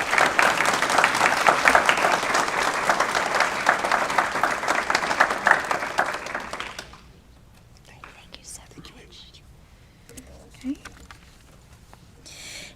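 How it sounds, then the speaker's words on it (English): Audience applause at a county school board meeting: dense, steady clapping from a room of people for about seven seconds, then cutting off into near silence with a few faint stray sounds. "Please give Mr. Ubaldo a round of applause."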